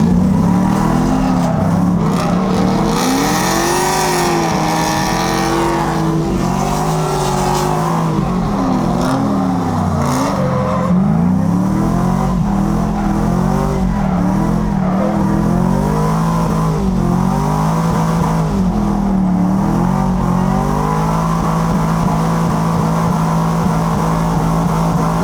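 A drift car races on an oval track, its engine loud and close, revving and wavering through repeated throttle swells and lifts over a steady roar, with no talking.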